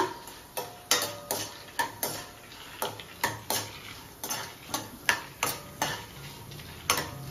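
Stuffed brinjal curry frying in a pan, with a run of sharp, rhythmic clacks of a spatula against the metal over a low sizzle, close by and with no talk.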